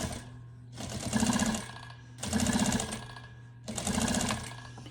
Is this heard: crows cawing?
no